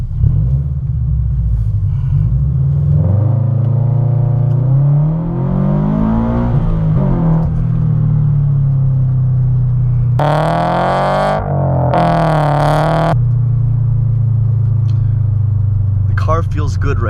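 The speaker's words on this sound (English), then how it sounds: "We'll do a light launch here from a standstill." A tuned Subaru BRZ with an aftermarket JDL header pulls away gently from a standstill on a cool day, its engine rumbling steadily up close and rising in pitch through two short bursts of revving.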